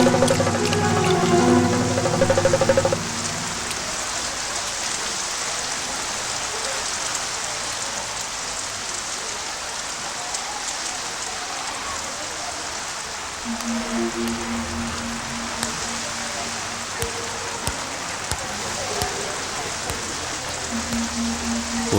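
Steady rain pouring down in a rural Kerala schoolyard, a dense even hiss of drops on surfaces lasting throughout, with brief music at the start and near the end.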